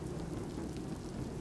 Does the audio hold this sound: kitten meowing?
no